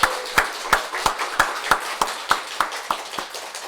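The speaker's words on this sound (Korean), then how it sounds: "우리 박수로 환영합시다" A church congregation claps together during a Sunday service, welcoming a new member, in a steady even rhythm of about three claps per second, close and lively.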